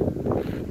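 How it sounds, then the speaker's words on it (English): Wind buffets the microphone outdoors on a riverside trail in Northumberland, a loud low continuous rumble filling the whole short moment. "Very windy."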